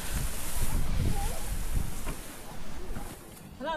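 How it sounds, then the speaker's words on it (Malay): Strong wind buffeting the microphone on a mountain summit in Kedah, a steady broadband roar with gusts, under distant voices and a faint whistle near the end. "Ngeri kan, angin terlalu kuat."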